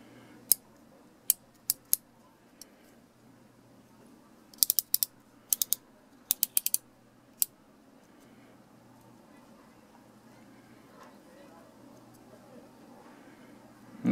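Crisp mechanical clicks from a Wisent MA170 utility box cutter come in small bursts, sharp and close against a quiet, faintly humming room, with no talking.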